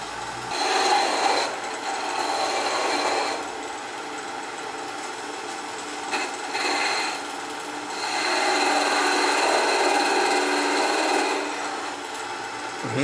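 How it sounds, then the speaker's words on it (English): A spindle gouge cuts into spinning wood on a lathe during a live woodturning demonstration, giving a continuous scraping, rasping hiss that swells and eases in long passes with brief gaps between cuts. "Now I'm going to use this tool. A different shape. It's a spindle gouge."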